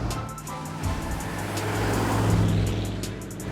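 A Mercury Park Lane with an engine that sounds rough and aggressive for its smooth look, rumbling steadily at close range and swelling slightly in loudness, with no talk.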